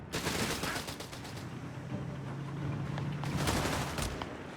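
A 30 caliber machine gun fires in the Company of Heroes 3 video game, with bursts of rapid gunfire at the start and again near the end over continuous battle noise, no talk.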